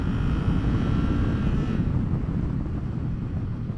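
A Honda Rebel 500 motorcycle engine revs hard at high RPM, a loud continuous roar with broadband rumble that eases slightly partway through, with wind buffeting and no talk.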